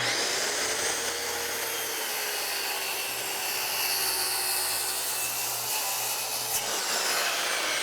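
Saw plunge cutting into tongue and groove plywood, a steady bright hiss of blade through wood lasting several seconds, close and even with no talking.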